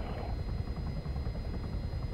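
A helicopter in the military video game ArmA 3, its rotor thumping steadily and loudly throughout with a constant engine drone and a thin high tone above.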